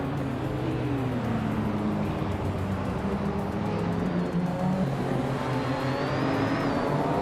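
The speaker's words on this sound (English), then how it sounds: "Scott Dixon is on pole, cruising in a classic 1983 Porsche 911 930 Turbo" Classic 1983 Porsche 911 930 Turbo race engine in a video game, droning steadily and loud throughout with layered engine tones and revving, no voices.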